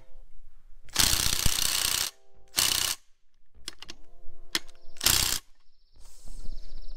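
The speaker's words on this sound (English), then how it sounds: "Damn, the ratchet," A ratchet wrench clicks loudly in several rapid bursts while a Honda B18C engine block is taken apart, with metallic clanks and short tool sounds between the bursts.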